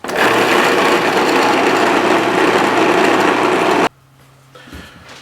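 A blender runs steadily and loudly, puréeing a hot bean dip of beans with paprika, garlic powder and cayenne until smooth, then cuts off abruptly, leaving faint clatter.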